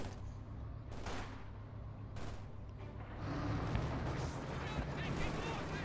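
Machine gun bursts and battle noise in the real-time strategy game Company of Heroes 2, with Panzer IV tanks in the fight. Rapid fire and booms rumble under a commentator's voice.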